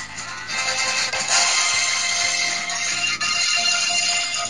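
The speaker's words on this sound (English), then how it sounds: "This is my current ringtone." An orchestrated Phoenix Wright phone ringtone plays continuously with layered melodic tones and bright upper texture, steady and fairly loud, no voices.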